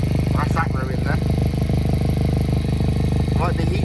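Toyota MR2 turbo engine idling with a blown exhaust gasket, a loud steady low rumble with a ticking exhaust leak, heard close up while a voice talks over it.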